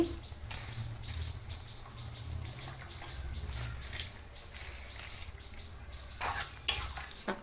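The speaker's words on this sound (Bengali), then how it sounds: "এই দেখো জলটা ফুটতে শুরু করেছে" Water comes to a boil in a pot for a kalmi greens and prawn curry, giving soft, faint bubbling that ends with a brief sharp clink.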